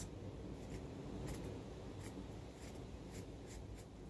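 Scissors cut straight across the worn toe of a sock, giving faint, evenly spaced snips over a quiet background hiss.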